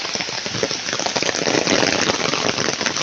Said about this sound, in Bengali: প্রচুর পরিমাণে বৃষ্টি হচ্ছে, খুব জোরে